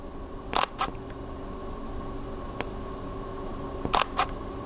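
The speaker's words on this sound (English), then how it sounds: "we're gonna hear the shutter sound" A Leica T mirrorless camera's shutter fires in two quick pairs of muted clicks, one pair early and one near the end, recorded close up over a low, steady background hum.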